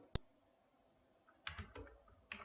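Keys clatter on a computer keyboard while a formula is entered into an Excel spreadsheet: a lone sharp click, a pause, then a short burst of close typing and one more keystroke.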